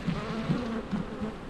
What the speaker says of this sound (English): Got bees climbing on the camera again.